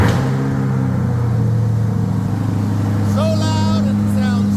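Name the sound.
Chevrolet Corvette C8 engine starting and revving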